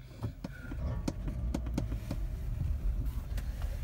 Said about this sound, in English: The car is moving.